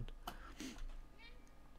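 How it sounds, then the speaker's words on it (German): A cat meows softly in the video game Stray, a short mewing call set among light game sounds and background voices. "Jetzt hat sie von alleine miaut."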